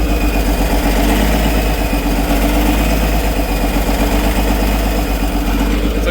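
A John Deere tractor engine idling too high and a little choppy, a loud, close, steady mechanical drone with a fast pulsing throb that holds level throughout, with no voices.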